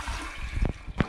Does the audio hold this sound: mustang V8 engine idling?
no